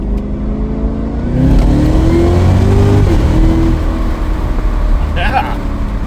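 A stock 650 hp Cadillac CTS-V accelerates hard in second gear. The engine roars loud and close, its pitch climbing through the pull and then settling, while a voice calls out over it.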